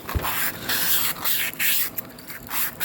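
A cylinder hone, pushed hard, scratches against an engine cylinder wall in bursts of gritty, hissing scraping with short pauses between strokes, close and fairly loud.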